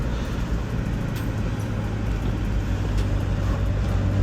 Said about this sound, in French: Oh là oui, il y a des bagnoles.